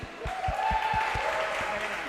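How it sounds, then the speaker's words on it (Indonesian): A church audience at a worship and charity night in Denpasar applauds for a group of elderly members. The clapping has a steady beat and runs under a voice on the microphone. "Tepuk tangan dong, lagi sekali."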